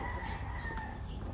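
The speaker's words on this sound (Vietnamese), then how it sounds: "Gà sống." A live chicken clucks nearby in a short burst amid noisy market background.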